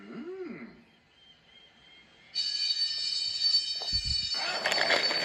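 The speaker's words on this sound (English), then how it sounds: "The alarm has sounded!" After a quiet start, a loud metallic fire alarm bell starts ringing continuously and keeps going, joined partway through by a harsher, noisier clang.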